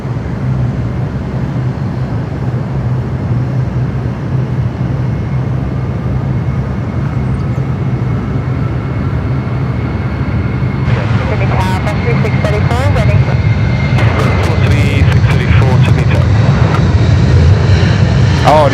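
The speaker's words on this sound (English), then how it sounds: "We're about to see another A330 climb like a homesick angel here, hopefully." An Airbus A330 airliner takes off and climbs at Sydney Airport, a sustained loud engine roar heard at a distance. The noise grows slightly stronger later in the clip, with a voice talking over it.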